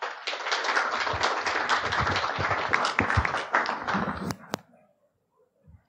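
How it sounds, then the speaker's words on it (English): An audience at a security conference applauds after a talk, a dense burst of clapping that lasts about four seconds before tapering off into near silence. "a round of applause for our speakers"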